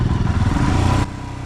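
A Royal Enfield Himalayan 450 motorcycle rides past close by, its engine a steady, throbbing mid-range drone. The sound drops abruptly to a lower, quieter rumble near the end, and no one speaks.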